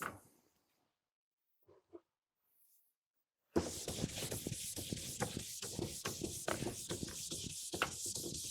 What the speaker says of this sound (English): I like to use my metal brush in one direction from tip to tail.